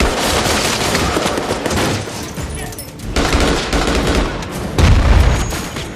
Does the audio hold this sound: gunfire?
yes